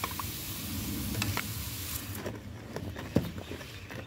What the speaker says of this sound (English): When you finish, you leave the hot rock in there. Now cook the coconut cream and thicken it up.